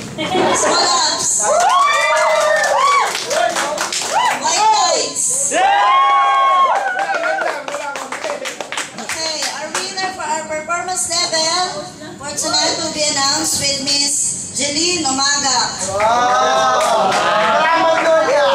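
Lively crowd at a company Christmas party cheers and shouts with scattered clapping, loud and close, with children's voices and whoops mixed into continuous excited voices throughout.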